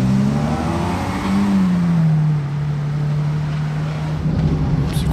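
A sports car engine roars loud and close, holding a low steady drone before the pitch shifts and the rumble swells again toward the end.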